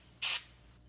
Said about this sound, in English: Might just spray just a little bit at the where it seats in there just to clean out hair.